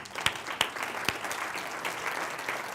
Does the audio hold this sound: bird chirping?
no